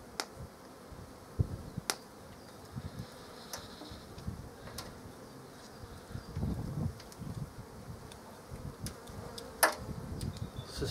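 Honeybees from a package being installed into a hive give a soft, continuous buzzing hum, with occasional small clicks and knocks from the beekeeper's handling close by.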